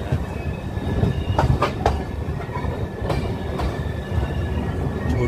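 A train, the Moradabad to Dehradun express, at a small, clean railway station in Uttarakhand: a steady rolling rumble with sharp wheel clicks and brief squeals, loud and close, continuous throughout with no voices.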